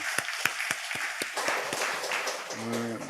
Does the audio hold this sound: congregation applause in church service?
yes